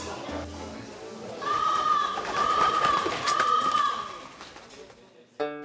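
Crows passing overhead give three drawn-out, evenly spaced caws, fairly loud, over an outdoor background murmur that ends in an abrupt bump.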